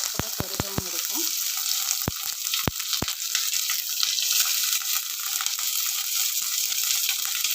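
Chopped garlic sizzles in hot coconut oil with fennel, cinnamon, cloves and curry leaves for a chicken gravy. A few sharp clicks of stirring come near the start over a continuous soft frying hiss.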